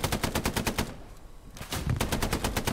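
Rapid automatic gunfire from the video game Hell Let Loose, loud and close, with dense bursts of shots, a brief pause in the middle, then sustained firing again.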